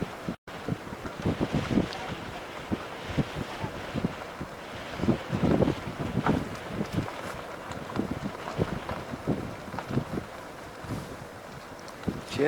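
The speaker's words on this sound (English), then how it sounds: "Sorry about the wind." Outdoor wind buffeting a microphone, low gusty rumbling bursts that rise and fall irregularly across the whole stretch, loud and close.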